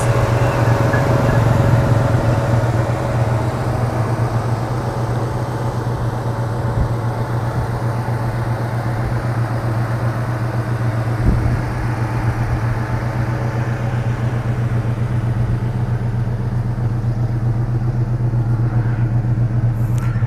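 An Opel Blazer army-style SUV's engine heard from the exhaust, a steady, loud low drone with a constant hum throughout, with no talk.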